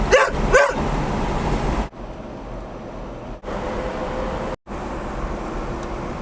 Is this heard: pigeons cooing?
no